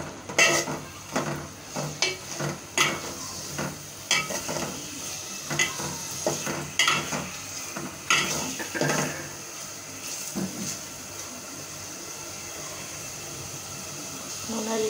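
Salted hilsa fish being stir-fried with spice paste in a pan, a low sizzle broken by repeated sharp clacks of a spatula against the metal, frequent at first and then thinning out to a quieter fry.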